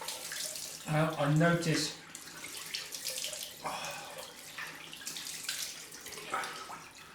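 Cold tap water running into a sink for a rinse after a straight-razor shave, a steady splashing flow with a louder burst early on, under someone talking.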